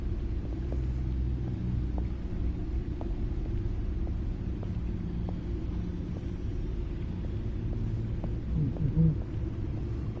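A car engine in a Batman video game gives a deep, continuous rumble that stays steady and loud throughout, with faint ticks and a brief swell near the end and no talk.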